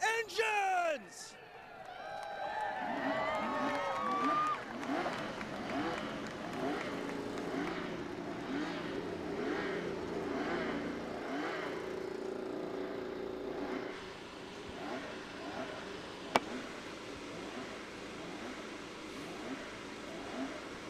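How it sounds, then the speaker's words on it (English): IndyCar race cars fire up at the 2016 Honda Indy Toronto street race: a brief burst of crowd cheering, then a steady layered drone of many engines idling and revving together, with crowd noise and voices over the top. "Drivers, start your engines!"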